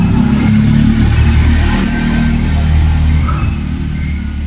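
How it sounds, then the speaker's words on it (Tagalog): A motorcycle engine rumbles continuously, low and fairly loud, with a slight rise and fall in pitch as it runs. "May naririnig na akong motor."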